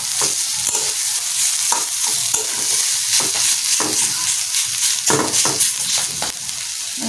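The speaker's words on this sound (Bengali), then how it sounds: "ভাজা হয়ে গেছে রসুন পেঁয়াজ আর চিংড়ি মাছটা আমি সবটা দিয়ে দিচ্ছি এখন ভালো করে নাড়িয়ে চাড়িয়ে দিব" Shrimp, garlic and onion stir-frying in hot oil, with a loud, continuous sizzle broken by repeated scraping strokes of a spatula against the pan, heard up close with no talk.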